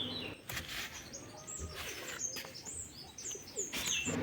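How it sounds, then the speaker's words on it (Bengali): Faint bird calls and chirps scattered over a quiet outdoor background, with a few soft cooing notes in the distance. "কি সুন্দর পাখির ডাক দিচ্ছে দেখো,"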